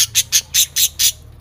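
A pet bird squawks loudly and close by, six harsh evenly spaced calls in quick succession with a quiet low hum behind.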